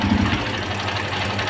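A Suzuki GS 150 motorcycle engine idles close up with a steady, even low thrum and a light mechanical patter, with no voices.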